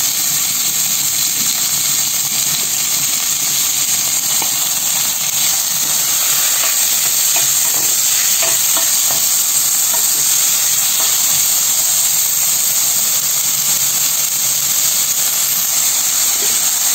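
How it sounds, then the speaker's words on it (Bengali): Chopped onion and garlic fry in oil, producing a loud, constant hissing sizzle that holds steady throughout with no voices. "দিয়ে দেব তেল, আর দিয়ে দিচ্ছি পেঁয়াজ কুচি"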